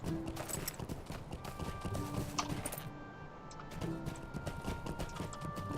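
Horse hooves clip-clopping in the online game Lord of the Rings Online, with quick, steady hoofbeats close up and continuing for several seconds, joined by faint background game sounds.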